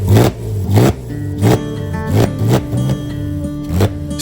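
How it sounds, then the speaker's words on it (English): A Porsche 911 engine runs after an oil change with a rhythmic, pulsing idle, rising and falling roughly every half second, loud and close, with metallic clattering mixed in. "The more the engine runs, the smoother and healthier it sounds."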